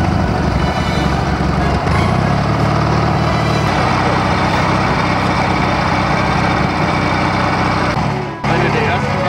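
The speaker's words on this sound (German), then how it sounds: "Das Motorrad." A Zündapp KS 750 motorcycle engine runs loud and steady in snowy, icy conditions, a low rumbling drone that holds throughout with a brief dip near the end, and a voice faintly under it.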